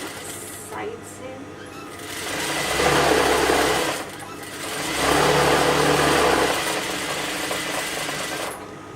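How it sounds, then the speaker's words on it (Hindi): An electric sewing machine stitches the crotch seam of a pair of trousers, whirring in two steady bursts of a few seconds each between quieter pauses, with a voice speaking over it. "अभी आपने इसकी मियानी की सिलाई लगाई"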